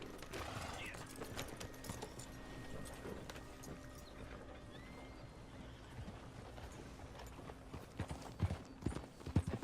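Horse hooves while riding in Red Dead Redemption 2, a steady clip-clop under a constant low game ambience, faint at first and growing more distinct toward the end, with no talking.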